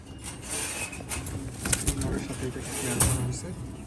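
Pigeons coo softly amid cage noise, low and somewhat muffled, with a few faint rustles and what may be wing flaps, and someone speaks over them.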